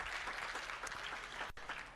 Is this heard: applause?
yes